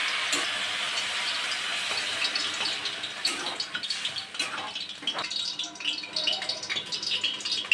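Water splashes and trickles into a cooking pot of turmeric-coated food, followed by a few stirring rattles against the pot, close and fairly steady.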